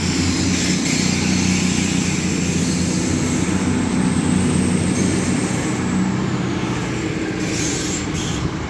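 Class 220 Voyager diesel unit 220009 pulls away from Stockport on the West Coast Main Line, its engine a loud, sustained roar with a broad rumbling drone throughout.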